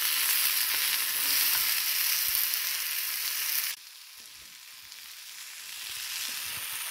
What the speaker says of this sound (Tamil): இப்போ தக்காளி வெங்காயம்லாம் நல்லா வதங்கிட்டு இருக்கு.